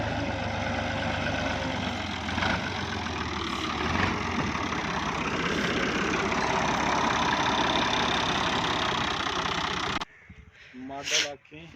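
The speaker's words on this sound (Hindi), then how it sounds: "ये ट्रैक्टर है अभी जो आया है यहाँ पे हल लगाने के लिए। ये फिएट है 480 मॉडल" A Fiat 480 tractor idles with a steady, close diesel chug for about ten seconds, mixed with crow calls, before the engine sound cuts away and talking is heard.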